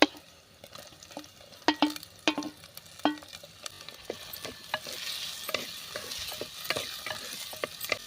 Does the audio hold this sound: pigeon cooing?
no